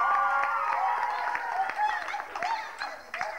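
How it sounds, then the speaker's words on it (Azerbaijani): An audience at a 2005 KVN comedy show in Mərdəkan claps and cheers. Scattered handclaps mix with whoops and crowd voices, and the noise fades and rises over a few seconds. "Alqışlar."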